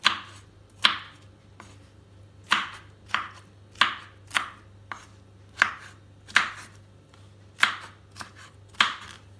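A knife chops pineapple into pieces on a board, giving about a dozen sharp, close cuts at an uneven rhythm with short pauses between them and no talking.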